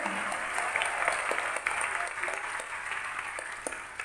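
A church congregation applauds after a sermon, a steady wash of clapping with scattered sharper claps that holds at a moderate level before slowly thinning out.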